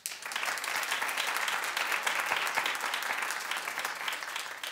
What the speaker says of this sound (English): so clap if you love Celebrity Apprentice